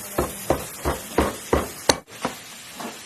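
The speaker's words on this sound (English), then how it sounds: "I'm going to form it into the ring shape. Do that by using a ring mandrel." Metal ring strip hammered around a ring mandrel: about eight sharp, ringing strikes in an even rhythm, close and loud, one harder blow near the middle.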